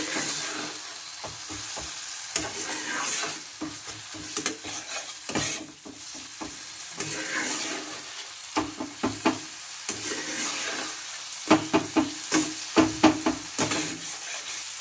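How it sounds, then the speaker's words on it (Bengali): Egg masala with chopped green chillies and salt is stirred in a frying pan, sizzling steadily while the spoon scrapes and taps the pan in irregular bursts, close and clear with no talking. "নুনটা দিয়েছি বলে একটু ভালো করে নেড়ে নিলাম"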